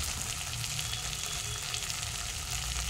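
Bitter gourd cooking in a pan for kakarakaya pulusu, a continuous close, even sizzle of frying with faint stirring, no voices.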